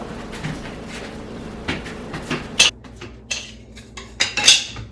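Metal wok being handled on a stove, with scattered clanks and scrapes, a couple of sharp metallic knocks standing out over faint kitchen background noise.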